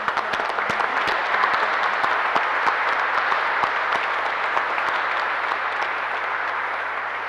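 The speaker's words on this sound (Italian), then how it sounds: "Vi facciamo un bel applauso." A church congregation applauds during a lectorate conferral ceremony, a dense, steady clapping that carries on loudly and alone through the whole stretch.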